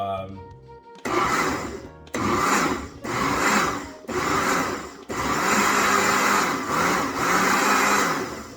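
A kitchen blender whirs in repeated loud bursts as it beats pea puree with shallots, peas, mint and chicken stock, the short pulses separated by brief pauses before a longer final run.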